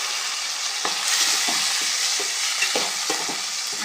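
Tomatoes fry with ginger and garlic for a tomato gravy: a steady sizzle broken by repeated scraping stirs in the pan, close and moderately loud.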